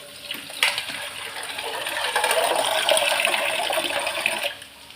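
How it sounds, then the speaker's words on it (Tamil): Water is poured steadily from a vessel into a pan of mango curry on the stove, a continuous gushing splash lasting several seconds before stopping abruptly, loud and close with no talking. "தண்ணி விட்டுக்கிறேன்."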